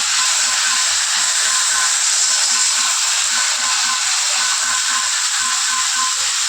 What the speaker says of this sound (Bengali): দেখো দেখতে দেখতে তো প্রেশারে সিটিও মেরে দিল